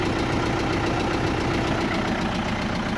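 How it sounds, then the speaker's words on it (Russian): Isuzu 3.1 diesel engine idling in an off-road racing vehicle, a close, loud, steady clattering rumble with an even knock throughout. "Какой-то мотор дизельный"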